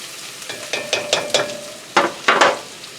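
Minced meat larb with black pepper is stirred in a pan, giving a close series of scraping, sizzling strokes in uneven rhythm, louder toward the end, with no talking.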